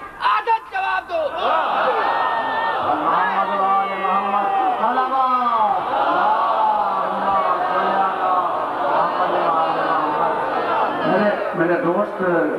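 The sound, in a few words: crowd chanting slogans at a majlis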